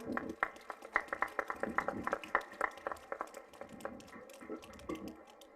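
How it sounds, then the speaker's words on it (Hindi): Audience clapping at a cultural stage program, a moderate scattered patter of many hands with music or voices underneath, fading somewhat toward the end. "तालियां हो जाए ऑडियंस।"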